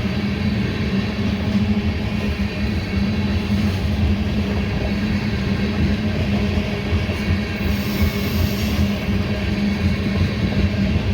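A CSX ethanol tanker freight train led by a CN locomotive climbs the Mt. Airy grade, producing a steady, heavy rumble of rolling cars and engine noise that holds constant throughout.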